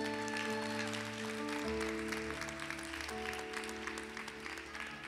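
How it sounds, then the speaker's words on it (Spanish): A church congregation applauds, a soft steady patter of clapping heard under sustained keyboard or organ chords that shift pitch midway, fairly faint and distant. "Dele un fuerte aplauso al Señor."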